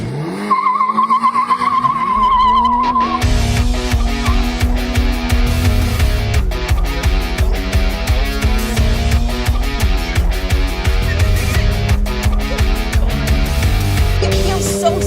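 A 2022 Toyota GR86 revs hard on a race track, its engine loud and close as it climbs through the gears with rapid pulsing and squealing tires, and no talk over it.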